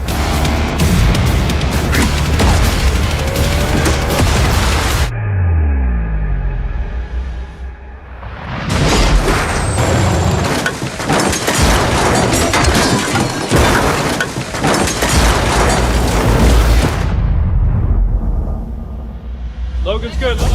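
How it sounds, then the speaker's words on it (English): A car rolls over repeatedly in a cannon roll stunt, heavy crashing and crunching impacts against loud engine roar and crowd noise, with a brief lull midway before more violent tumbling, and people talking over much of it. "Here is the world record cannon roll turnover right here."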